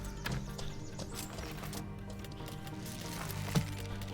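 Horse hooves clip-clop at a steady walking rhythm in the fantasy online game Mortal Online 2, a continuous close patter layered over game ambience and music, with a sharper knock near the end.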